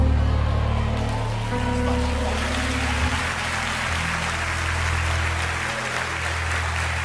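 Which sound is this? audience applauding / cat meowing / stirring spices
audience applauding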